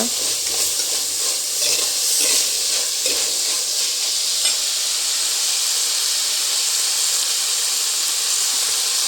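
Dried prawns dusted with turmeric fry in a pan, giving a loud, steady sizzle with faint scrapes from stirring throughout and no talking.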